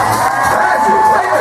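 A loud crowd at a cruise ship hypnotist show cheers and whoops in a dense, continuous roar, with a sharp whistle cutting through, close and sustained for the whole moment.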